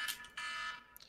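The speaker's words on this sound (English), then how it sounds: "What was that burglar alarm?" A loud, aggressive wake-up alarm that sounds like a burglar alarm, coming in two harsh bursts: a short blast, then a longer sustained tone, with no talking.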